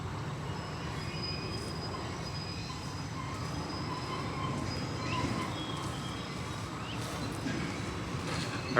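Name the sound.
train moving in the background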